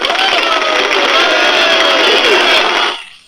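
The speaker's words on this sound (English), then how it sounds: "We'll hit the old applause here." Crowd applause and cheering from a sound effect played on a LEGO building stream, a dense steady wash of clapping for about three seconds, then cut off abruptly.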